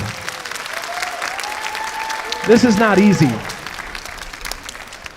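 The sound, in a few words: audience applause for percussionists and band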